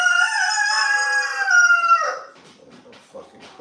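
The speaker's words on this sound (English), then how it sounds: "Oh, fucking crazy fucking bird." A rooster crows loudly and close in one long harmonic call lasting about two seconds, trailing into faint clucking and yard noise.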